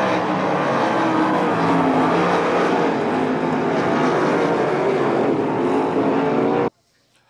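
Sprint cars race for third place at Attica Raceway Park, a loud, continuous engine roar close by that stays full and sustained before cutting off abruptly near the end.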